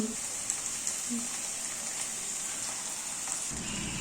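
Onion, ginger, garlic, tomato and spices sizzle in a wok with a soft, steady hiss, accompanied by a few light clicks and a low thump near the end.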